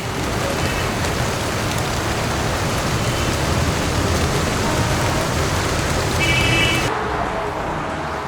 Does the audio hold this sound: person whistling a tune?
no